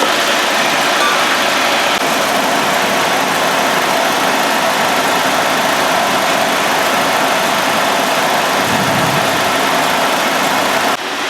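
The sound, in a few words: Pontiac Solstice GXP Turbo car engine idling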